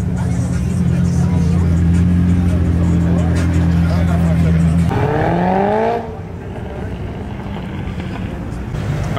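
A McLaren Senna supercar leaves a car show, its steady engine drone shifting into a rising rev as it pulls away, loud and close before fading slightly, with crowd chatter underneath.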